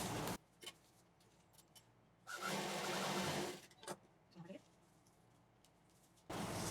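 An electric sewing machine stitches brocade onto fabric for a party handbag in three or four short runs of rapid whirring stitches, separated by quiet pauses.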